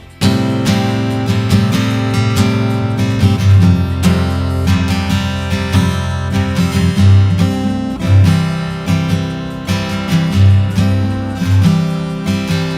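Acoustic guitar strums the chorus of a song at full tempo, a steady, loud run of chords with no voice over it.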